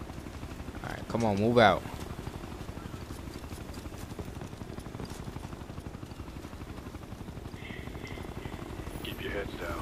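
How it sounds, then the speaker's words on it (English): A helicopter in the Ghost Recon Future Soldier video game hovers with a steady, low, chopping rotor drone throughout. A voice speaks briefly over it. "If that chopper spots us, it'll get messy real fast."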